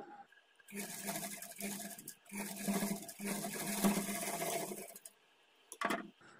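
A sewing machine stitches the folded-in edge of a plain blouse in two long steady runs with a brief pause between them, close and fairly loud, stopping near the end before a short final burst.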